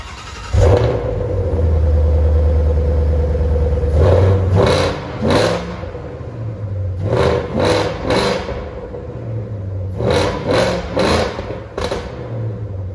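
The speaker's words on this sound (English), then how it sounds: "why don't we go ahead and turn it on and we can check out that exhaust" A 2020 Shelby Super Snake Widebody with an 800 hp engine idles with a deep rumble, then its active exhaust is revved repeatedly in sharp bursts, loud and close, each rev rising and falling quickly.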